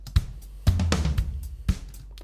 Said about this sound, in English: So here we've got the low tom and the snare.